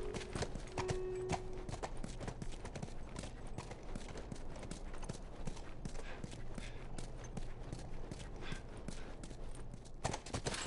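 A horse walks with rapid, continuous clip-clopping hooves in The Last of Us Remastered on PS4, the steps loud and close, with a brief tonal game sound near the start and no clear speech.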